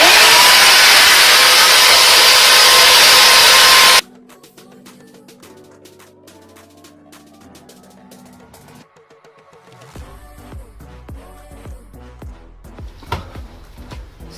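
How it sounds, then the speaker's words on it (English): A power sander roars loudly for about four seconds, then cuts off abruptly, leaving quiet background music with soft taps. "It's sanding time."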